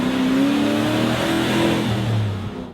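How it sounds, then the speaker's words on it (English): A road train truck engine roars and revs steadily, loud and close, its pitch rising and falling slightly before tapering off. "Paul and his guys went out and did a lot of extra recording of vehicles to basically create the character of Mick's truck"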